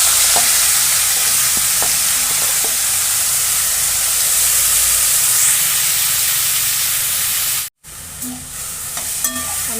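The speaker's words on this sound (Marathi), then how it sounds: "आणि यामध्ये परतून घ्या लगेच." Spring onion greens stir-fry in hot oil with crushed garlic, red chili powder and turmeric on a low flame. A loud, continuous sizzle and hiss runs throughout, with a brief dropout near the end before quieter frying resumes.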